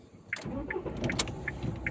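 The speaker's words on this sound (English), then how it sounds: "Let's start the engine up." A car engine turns over and settles into a low, steady rumble during a driving lesson, heard up close inside the car with faint clicking ticks and no talking.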